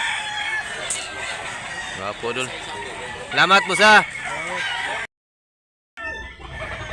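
Chickens at a poultry market in Mantalungon, Barili, Cebu cluck and crow in repeated bursts, loud and close, mixed with someone talking throughout before a brief cut to silence.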